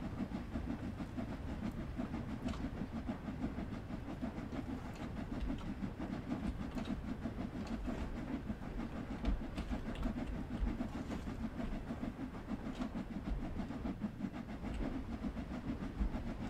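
A steam locomotive in Train Sim World 2's Spirit of Steam, climbing a 1 in 93 gradient, rumbles steadily along the rails with a continuous low mechanical roar, rhythmic clatter and a faint chuffing texture throughout, without talk.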